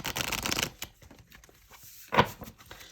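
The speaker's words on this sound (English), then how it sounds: "we're going to do some smaller group shuffling here." Tarot cards being shuffled up close: a rapid riffling burst at the start, soft scattered handling sounds, then another short shuffle.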